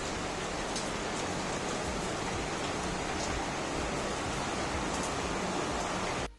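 Steady rain pours down outside a home, a dense even hiss filling the whole stretch with no voices, loud and continuous until it cuts off at the end.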